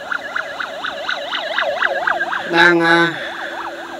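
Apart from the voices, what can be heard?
ambulance siren passing behind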